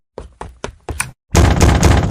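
Someone knocks on a door with four separate loud thumps, pauses briefly, then pounds on it in a fast, heavy flurry of blows. Nobody speaks.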